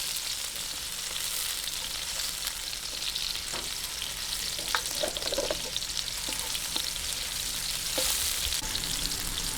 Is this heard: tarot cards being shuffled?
no